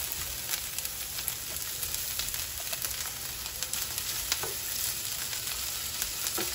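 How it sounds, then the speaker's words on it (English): Beef and ginger sizzle steadily in a hot pan for spicy orange beef, a continuous close crackle with small pops and occasional stirring scrapes, no talk. "we're gonna sizzle that around a little bit. Let's just get this beef going right now."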